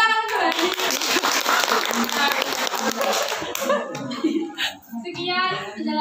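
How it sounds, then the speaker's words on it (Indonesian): A classroom audience claps in a burst of applause after a lesson on Islam's arrival in the Nusantara, the clapping dense at first and then fading, with voices and children's chatter mixed in. "Tepuk tangan kembali."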